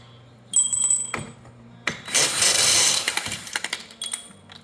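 A power drill whirs in uneven bursts during a small two-stroke engine teardown, a harsh rattling buzz of vibrating metal rods swelling loud in the middle, with clinks and starts around it.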